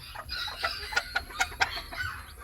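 A chicken clucks in a series of short, sharp calls with a loose rhythm, fairly close but not loud, against a quiet background.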